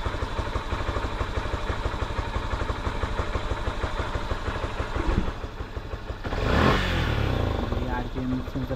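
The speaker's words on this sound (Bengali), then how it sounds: "ইঞ্জিনটা গরম হোক।" A Yamaha FZS V3 motorcycle engine idles steadily after a throttle body cleaning, a close, even, rapid putter that shifts into a fuller, slightly higher hum toward the end.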